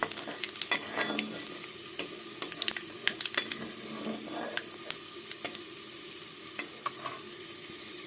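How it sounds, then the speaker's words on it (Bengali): Whole spices (phoron) sizzling and crackling in hot oil in a wok, a steady close frying hiss broken by sharp pops and brief stirring scrapes, with no voices. "কড়াইতে তেল দিয়ে দিলাম বন্ধুরা দেখতে থাকো এখন দিয়ে দিব পুরন"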